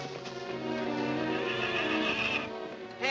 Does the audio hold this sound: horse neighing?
yes